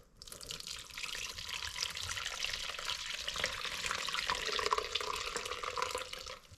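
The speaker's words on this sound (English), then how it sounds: "place the muslin cloth over and allow the whey to drain away" Hot whey from ricotta making drains through a muslin cloth into a colander, a steady, close, splashing rush of liquid like running water that holds for several seconds before fading, with no voices.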